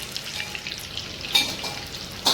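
Coriander fritters (kothimbir vadi) fry in a pan over a high gas flame, giving a soft, steady sizzle broken by two brighter crackling bursts from the hot oil.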